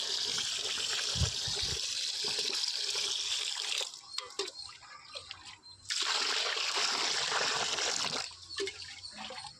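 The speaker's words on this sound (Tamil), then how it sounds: "அதனால் வந்து நல்லா தண்ணி ஊற்றி கழுவிடுங்க." Rice being washed with water poured over it in a vessel for a 5 kg vegetable rice batch, two sustained bursts of splashing, trickling water separated by quieter gaps with soft clatter.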